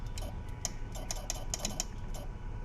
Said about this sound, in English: We got clicking noises.